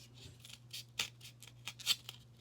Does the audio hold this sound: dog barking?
no